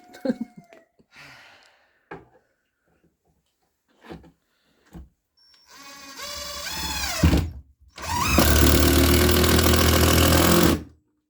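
An impact driver drives fasteners while a wooden nesting box is built, with a few short knocks and thuds followed by two loud, sustained bursts of whirring, rattling hammering close up.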